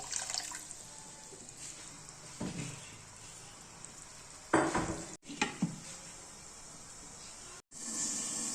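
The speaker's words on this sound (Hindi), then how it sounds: "अब इसमें 2 गिलास डाल देंगे पानी, क्योंकि ये मटन का कीमा है" Mutton keema simmering in a pot with water added, faint steady bubbling and soft sizzle punctuated by a few louder stirring or splashing bursts near the middle, quiet overall with no talk.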